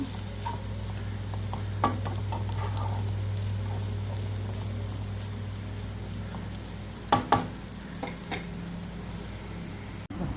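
Jaggery, grated coconut and egg being stirred and mixed in a hot pan, a steady soft sizzle with a few scraping knocks of the spoon against the pan, heard alone without talk.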